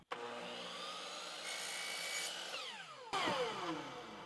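Power saw cutting round baseboard at a 22.5-degree outside angle, a steady loud whine through the whole cut with a pitch shift and slowing spin-down near the end.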